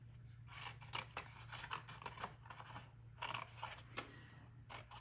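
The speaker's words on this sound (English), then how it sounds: "we're going to cut up our vertical score lines to the first horizontal." Scissors snip through paper along score lines for a pillow box treat holder, a quick series of crisp close cuts with short pauses, quiet and alone.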